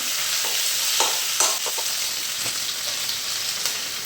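Boiled potatoes frying in a pan, a continuous loud sizzle of hot oil with occasional soft stirring scrapes close by, no voices.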